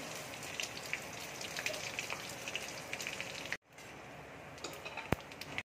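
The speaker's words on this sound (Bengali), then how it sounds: "এবার গোটা গরম মশলা আমি দিয়ে দিচ্ছি, শুকনো লঙ্কা ফোড়ন দিয়ে দিচ্ছি, তেজপাতা দিয়ে দিচ্ছি, জিরে আর পাঁচফোড়ন দিয়ে দিচ্ছি।" Whole garam masala, dry red chillies, bay leaf, cumin and panch phoron crackle and sizzle in hot oil for masoor dal with taro, a steady dense spitting that breaks briefly and resumes, with one sharp pop near the end.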